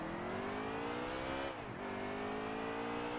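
Race car engine in NASCAR Heat 3, a sustained steady whine that dips briefly in pitch mid-way, as during a gear change, then resumes at constant speed, fairly quiet and alone.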